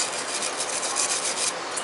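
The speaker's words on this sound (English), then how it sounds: "Give her a nice little scrub." Steady, close rasping scrub of a surface being rubbed back and forth, continuous and fairly loud for a couple of seconds with no voices.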